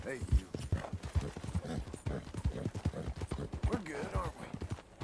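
The default horse in Red Dead Redemption 2 trots with a rhythmic clip-clop of hooves, while someone talks over the hoofbeats throughout.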